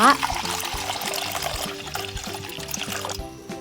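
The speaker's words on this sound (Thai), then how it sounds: "ตั้งกระทะเปิดไฟใส่น้ำลงไปในกระทะ" Water pours into a pan on the stove in a steady splashing stream for a few seconds, close by, then cuts off near the end.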